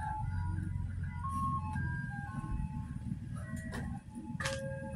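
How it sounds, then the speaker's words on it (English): An ice cream truck plays its jingle while passing by on a summer day, the melody ringing out clearly over a steady low rumble of engine and road noise before fading off. "There it is, the ice cream truck."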